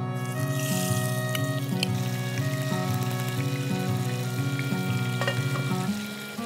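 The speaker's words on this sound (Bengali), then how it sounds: "তেলটা গরম হয়েছে আপু, আমি এখন মাছটা হচ্ছে ভেজে নিব।" Fish frying in hot oil in a kitchen pan, a continuous close sizzle that holds steady throughout under a repeating low background tone, with no talking.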